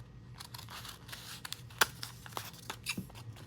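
Scissors snip and cut through fabric in quiet, irregular crisp strokes, with light rustling of cloth between cuts, close and alone.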